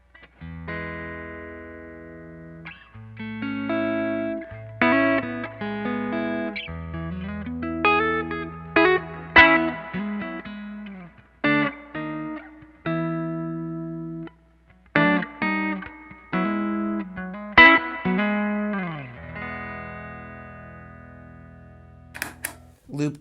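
An electric guitar played through a Steel String Clean Drive pedal, with clean chords and single notes in separate phrases that ring out and decay, with no talk.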